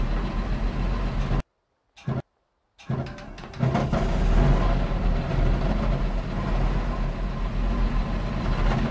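A tank engine in the World War II shooter Hell Let Loose on the Foy map, a loud, steady low rumble that drops out twice briefly near the start, then resumes and swells as the vehicle gets going.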